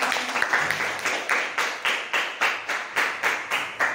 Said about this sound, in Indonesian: Ya, beri tepuk tangan